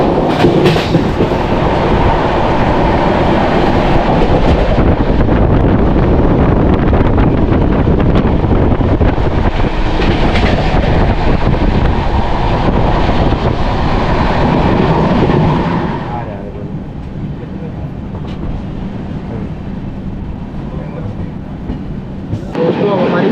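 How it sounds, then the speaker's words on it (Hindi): Humsafar Express passenger train running on rails toward Vijayanagaram, a steady loud rumble with wind noise that drops to a quieter roll for the last several seconds. "दोस्तों अब हमारी ट्रेन विजयनगरम की तरफ बढ़ रही है।"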